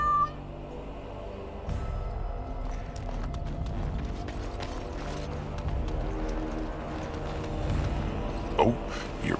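A cat named Sir Pouncelot meows in the video game Dragon Age, heard at moderate loudness over a steady game soundscape with light footsteps and background noise.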